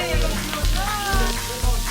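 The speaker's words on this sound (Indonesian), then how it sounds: "sekarang giliran menggoreng ayamnya." Chicken cut into small pieces frying in hot oil at an Indonesian cooking class, a steady sizzle with crackling pops, fairly close, with a voice talking over it in places.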